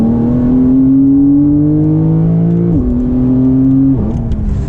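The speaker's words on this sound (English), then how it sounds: "I'll try to get a little acceleration for you so we can compare this with the Turbo and the Turbo S." A Porsche 992 Carrera base accelerates from inside the car. The engine note climbs steadily, drops at a gear change, then climbs again before a second shift. The engine is loud and close, with no talking.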